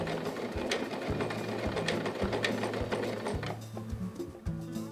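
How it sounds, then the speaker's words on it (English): Kenmore model 385.15752 sewing machine stitching in place at zero stitch width, a steady rapid mechanical whirr with rhythmic needle thumps running close and loud through the whole stretch, slowing slightly near the end. "Then sew a few stitches in place."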